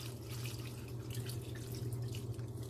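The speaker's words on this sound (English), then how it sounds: "So I'm just going to add a little bit more water to cover it" Water poured into a pot of boiling tamarind on the stove, a soft steady trickle and splash with low bubbling underneath, close and continuous.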